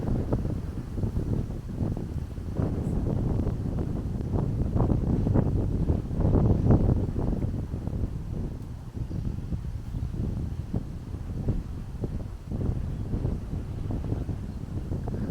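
Gusty wind buffets the microphone in uneven bursts at a lakeside park, rising and falling across the whole stretch with a constant low roar underneath.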